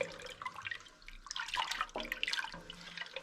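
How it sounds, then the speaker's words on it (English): Sweet orange juice pours and splashes into a pan for homemade carrot and orange wine, a soft irregular run of drips and trickles at close range. "So there's my lovely sweet orange juice, and that's going into the pan also."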